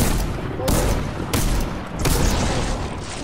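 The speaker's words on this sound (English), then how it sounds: "that's four shots right there" Gunshots in the Fortnite video game: three heavy, booming shots land roughly every two thirds of a second over a dense, noisy background.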